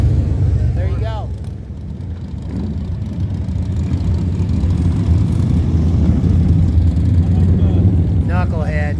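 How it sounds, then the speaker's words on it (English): An old Harley-Davidson Knucklehead motorcycle idling nearby, a steady low engine rumble that runs throughout, while people talk over it at the start and near the end. "This old dude's riding a knucklehead."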